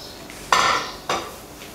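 Spoon scraping through a bowl of potato paratha filling mixed with coriander, green chilli and spices, two bright scraping strokes standing out against a quiet room.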